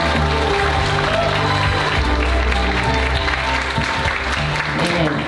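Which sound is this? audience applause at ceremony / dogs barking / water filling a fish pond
audience applause at ceremony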